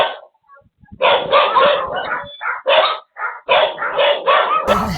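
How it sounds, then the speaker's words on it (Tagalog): Several dogs bark loudly and excitedly at close range in repeated bursts, with brief pauses between volleys, at a home as a visitor arrives. "Maingay nito mga aso."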